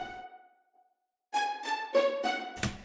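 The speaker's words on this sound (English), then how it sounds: "I went ahead and actually did another string, but this is more of like a pluck string rather than whatever kind of string that was" Low plucked string synth sounds in a beat: a sustained tone fades out, then after a short gap a series of bright, evenly spaced plucked notes plays up close, ending with a louder hit.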